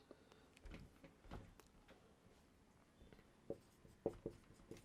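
Handwriting an example by hand: faint, close scratching and tapping strokes of a pen in a quiet room, with short irregular ticks clustered toward the end.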